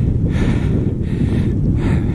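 Wind buffeting a microphone while cycling along an exposed coastal road, a steady low roaring rumble with gusty swells throughout, loud and close, no talking.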